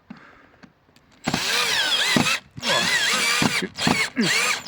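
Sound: screw being driven in with a power drill

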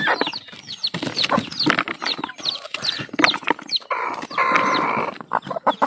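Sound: chickens clucking on a farm

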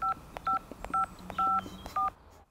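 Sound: telephone dialing tones

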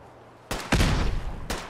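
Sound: gunfire from guns in the video game Fallout 4

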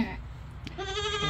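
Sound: baby goats bleating

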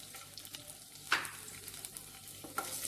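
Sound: garlic cloves frying in oil

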